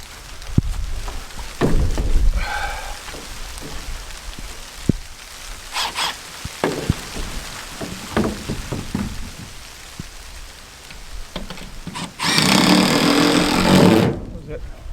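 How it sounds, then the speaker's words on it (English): A rain shower patters and taps irregularly on surfaces nearby, building into a dense, loud downpour hiss near the end, with people talking over parts of it. "Oh, it's raining."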